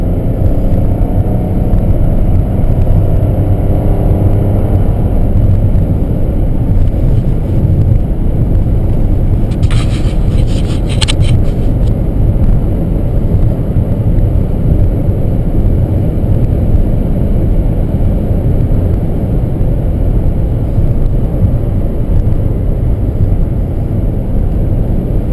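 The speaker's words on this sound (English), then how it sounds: "when you step on the gas you probably want to kind of hear the engine roar" A 2012 Honda Crosstour's engine roars under hard acceleration. A loud, dense, continuous rumble with road noise fills the whole stretch, and a faint rising engine tone shows early on.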